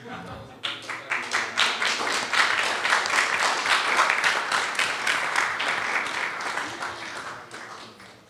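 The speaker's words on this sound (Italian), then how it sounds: "Io volevo proporre un applauso a Carola Frediani" An audience at a talk on hacking, big data and social media applauds, the clapping rising from scattered claps into a full steady round before tapering off near the end.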